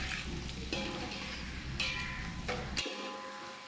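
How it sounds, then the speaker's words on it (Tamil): Sliced onions sauté in hot oil with bay leaf, cinnamon and cloves for biryani, a close steady sizzle broken by sharp scraping stirs before the frying noise cuts off. "வெங்காயத்தை போட்டுக்கிட்டு கொஞ்சம் நல்லா அப்படியே வதக்கணும்."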